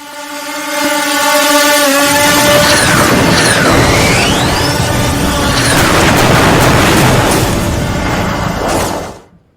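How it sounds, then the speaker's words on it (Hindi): Blasts from drones flown from Afghanistan across the border into Pakistan: a loud, sustained roar of booming rumble with a motor-like drone that runs for about nine seconds before cutting off abruptly. "अफगानिस्तान से ड्रोन गए हैं पाकिस्तान की सीमा के अंदर और वहां धमाके हुए।"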